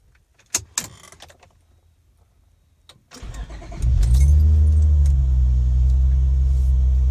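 Honda Pilot engine cranking and catching after a couple of faint key jangles and clicks, then settling into a steady, close, loud idle rumble with no talk.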